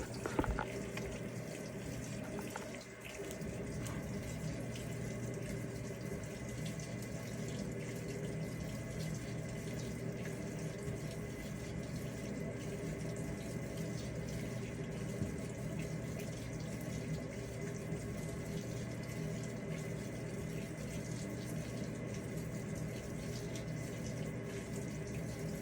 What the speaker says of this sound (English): So it's filling now.